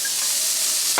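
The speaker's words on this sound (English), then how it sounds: "we're going to melt the butter, and once that's melted, which doesn't take long, we're going to go ahead and add in our onions" Onions sizzling in melted butter in a pan, a steady close frying hiss heard alone, with a brief louder burst at the very end.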